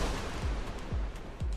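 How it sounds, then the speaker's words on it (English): Explosions in the video game Rain World, three low thumping booms in quick succession, about half a second apart, over dense, steady background noise. "I heard an explosion"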